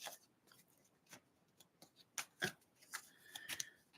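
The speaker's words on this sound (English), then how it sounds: "let me get my Oracle deck shuffled" A tarot oracle deck being shuffled by hand, quiet scattered card flicks and riffles with a few sharper snaps, close and faint with no talking.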